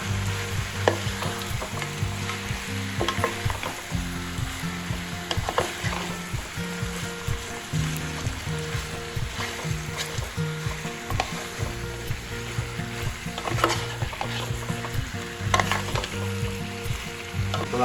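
Chicken with turmeric is stirred in a pan of frying oil: a steady sizzle runs throughout, broken by repeated scraping strokes of the spoon. It is fairly close and continuous, with no talk.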